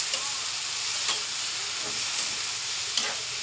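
Bitter gourd (ampalaya) sautéed with tomato in a pan gives a loud, continuous close-up sizzle and hiss, with faint stirring scrapes now and then and no talk.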